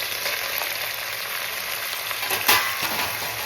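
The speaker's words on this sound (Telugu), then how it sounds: "అన్నీ అల్లం వెల్లుల్లి పేస్ట్, మెంతులు, జీలకర్ర, ఎండుమిరపకాయలు వేగిపోతున్నాయి." Ginger garlic paste, fenugreek seeds, cumin and dried chillies frying in hot oil for kadi pakoda, giving a steady close sizzle with a brief stirring clatter partway through.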